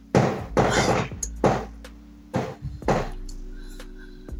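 Fireworks going off around a neighborhood during the holiday season: about five sharp, loud booming bangs in irregular succession, each fading into a short rumbling tail, with no talking.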